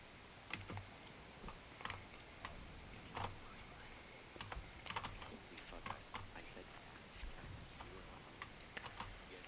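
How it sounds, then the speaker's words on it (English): A computer keyboard clacks during gaming, with scattered sharp key taps and short bursts over a constant hiss, faint and somewhat distant. "we can hear the keyboard clacking"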